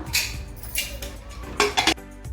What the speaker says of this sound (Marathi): आता आपण कुकरला झाकण लावून कुकरच्या पाच शिट्या काढूया